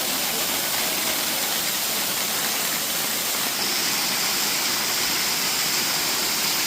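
Murga waterfall beside the Mahadev temple in Keonjhar, a steady loud roar of falling water with a constant broadband rush, close and continuous throughout.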